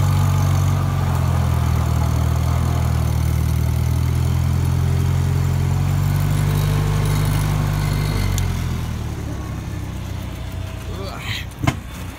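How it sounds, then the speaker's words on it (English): A 1948 Farmall Cub tractor engine idles close by with a steady low throbbing drone that cuts out near the end, leaving quieter outdoor sound and a brief knock. "there's the tractor"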